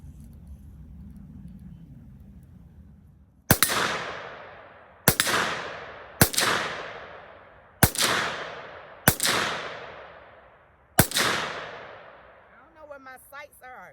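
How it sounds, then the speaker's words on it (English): An FN PS90 fires six sharp, loud shots at irregular intervals, each followed by a ringing outdoor decay, after a stretch of low background rumble. "And now we shoot."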